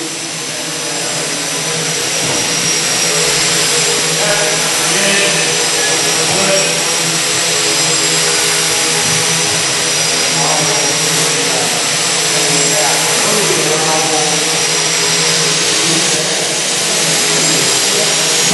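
Several model airplane engines flying indoors, a continuous high buzzing drone that rises and falls slightly as the planes circle, filling the hall throughout.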